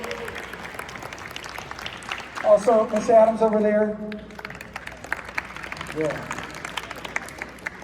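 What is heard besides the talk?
audience applause at a school concert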